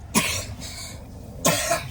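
A sick child coughs twice indoors, short sharp bursts about a second apart, close and fairly loud with quiet room noise between them.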